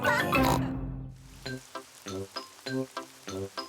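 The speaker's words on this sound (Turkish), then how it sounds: "Ve bu da baba domuz." A cartoon pig voice, the father pig from Peppa Pig, gives a rapid series of nasal oinks and snorts in an even rhythm, close and clear, after a brief musical sting at the start.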